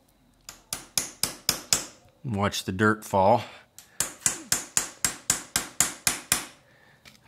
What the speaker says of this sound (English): take this extractor, and we're basically going to hammer this in.